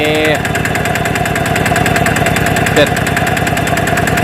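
An old Kubota diesel engine, a DA 780 under repair, runs with a loud, steady rhythmic chug close by, and a voice can be heard briefly over it at the start.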